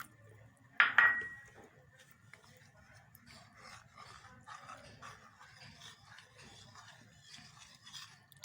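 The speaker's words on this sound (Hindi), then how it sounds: "चम्मच आपने हिलाते जाना है ताकि ये गुठलियाँ ना बने।" A spoon stirs custard powder and water in a bowl, opening with one sharp clink against the side, then a steady faint scraping and tapping that carries on for several seconds with no voices.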